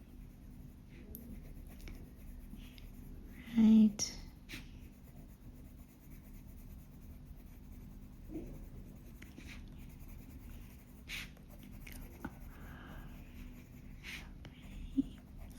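Quiet, steady scratching of colored pencils across paper, faint and continuous, with a brief voice and a few small knocks.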